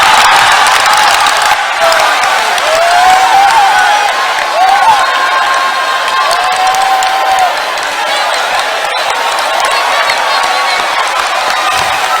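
A student forum audience applauds and cheers steadily, with loud sustained clapping, shouts and whoops from a large crowd and a few voices rising above the din.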